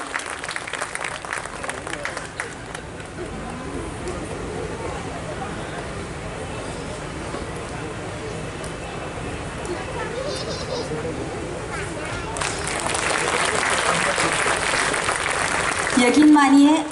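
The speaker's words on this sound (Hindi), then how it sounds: "जोरदार तालियां हमारे कोरियोग्राफर और उनकी पूरी टीम के लिए" Applause from a large audience at a staged cultural performance, a steady wash of clapping that swells louder toward the end, with crowd murmur and some voices mixed in.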